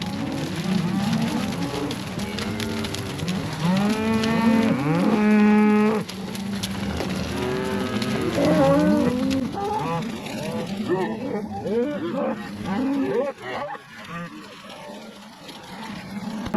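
Cattle moo and bellow repeatedly in a pen while calves are worked in a new handling facility, loud overlapping calls near and far, with some talk mixed in.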